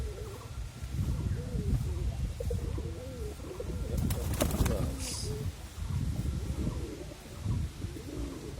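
Pigeons kept among garden trees coo repeatedly in soft, rolling low calls, close by and fairly steady, with a brief sharp rustle or flutter midway and a constant background hum.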